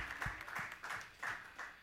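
Scattered applause from an audience at a live comedy show, several clap bursts fairly distant and soft, with no speech over it.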